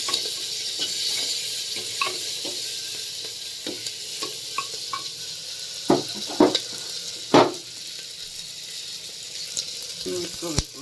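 Chopped tomatoes frying over low heat in a pan for a Karnataka buttermilk curry (majjige huli), a soft steady sizzle with scattered spoon scrapes and a few sharper clinks, no one talking.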